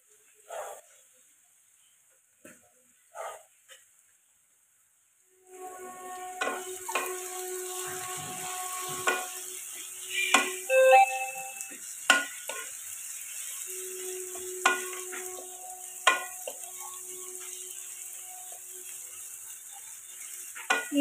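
Onions frying in ghee in a pan for chicken masala, a quiet start giving way to a steady close sizzle with occasional stirring scrapes and clinks.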